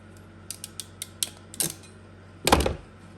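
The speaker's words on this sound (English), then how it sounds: "And you take these wire fly crimpers, and then you crimp." Ratcheting wire crimpers clamp a red 18-gauge terminal lug, giving a rapid series of sharp ratchet clicks followed by a louder, longer crunching squeeze, close and alone.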